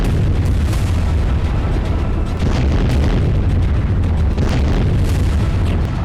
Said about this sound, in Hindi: क्लस्टर विस्फोट की वजह से यूक्रेनी सेना को बड़ा नुकसान पहुंचा है।